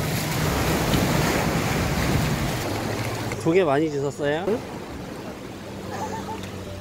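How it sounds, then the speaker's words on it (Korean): Surf washing onto a tidal beach on Korea's West Sea at low tide: a steady, fairly loud roar of waves and wind, with a person briefly speaking over it midway. "바다 소리가 들려요 이거? 들어봐."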